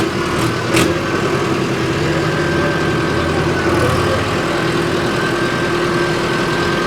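A Mahindra Ultra 605 tractor engine runs at a steady 1300 rpm, a continuous close drone with a faint high whine and no talking.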